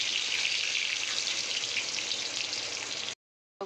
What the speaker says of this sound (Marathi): आता मी याच्यामध्ये मोहऱ्या टाकते। तेल मस्त गरम होऊन गेलेलं आहे